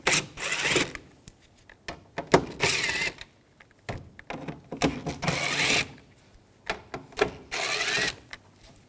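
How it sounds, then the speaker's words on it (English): Ratchet fitted with a T25 socket backing out the upper screws on a Volkswagen Jetta front bumper cover, heard as several bursts of quick clicking spins with short pauses between, close up and with no talking. "We're going to take these screws out up top, use a T25 socket, take these out."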